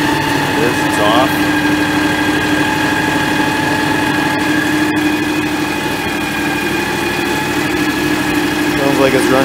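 John Deere x738 lawn tractor engine idling steadily nearby, a smooth, even low hum with constant mechanical tones and no revving.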